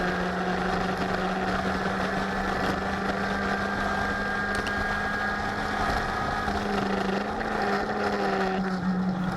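A race car laps the Sebring circuit, its engine droning loud and steady throughout with a sustained tonal whine that shifts slightly in pitch as it drives.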